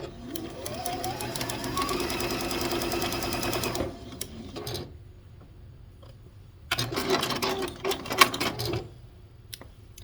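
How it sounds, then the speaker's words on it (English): A sewing machine stitches quilt block fabric in a continuous close whir for about four seconds, pauses briefly, then makes another run and a few short bursts with clicks. "go ahead and throw that under my needle and stitch it down too"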